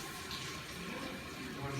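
Water runs steadily from a public fountain tap in Split, Croatia, a continuous rushing splash close by with low background noise throughout.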